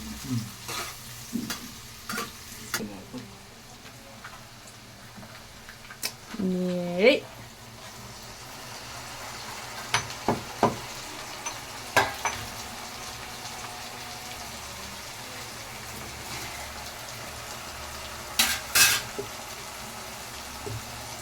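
Finely pounded ground spices fry in a pan for a fish curry, a low continuous sizzle broken by scraping stirs, with a few spoon clinks and a voice speaking briefly.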